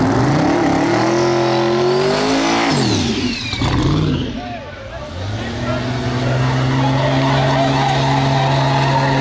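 A Toyota Supra drag car does a burnout at a drag strip with loud, sustained engine revving and tire squeal. The pitch sweeps up and down, dips briefly, then settles into a steady high roar.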